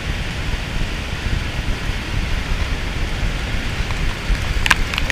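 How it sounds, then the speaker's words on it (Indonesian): Heavy rain pours down steadily at a campsite by Tasik Kenyir lake in Terengganu, Malaysia, a dense, loud, even hiss of drops with a faint clatter near the end. "Hujan lebat."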